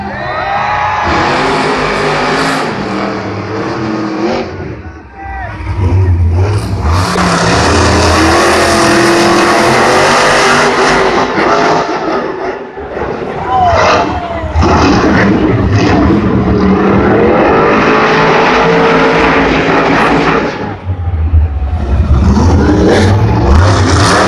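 Monster Jam monster truck engine revving during qualifying in a stadium at Gillette Stadium, Foxboro, a loud, sustained roar rising and falling in repeated bursts across the run, with crowd and arena ambience mixed underneath.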